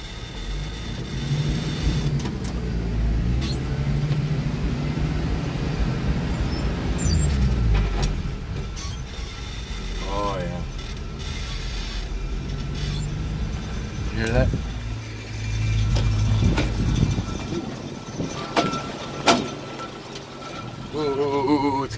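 A car with a blown transmission drives around the block, its engine droning unevenly with road noise inside the cabin while people talk throughout.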